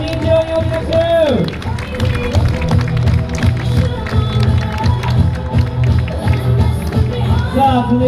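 An outdoor audience claps and cheers for a motorcycle rider at a riding show, a steady patter of applause with some cheering under an announcer talking over a PA with a low hum.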